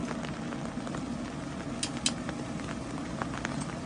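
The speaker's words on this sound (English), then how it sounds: "Well, the rain's not getting any better." Steady rain patters outdoors beside a pellet grill, a continuous dense hiss with scattered sharper drips and taps.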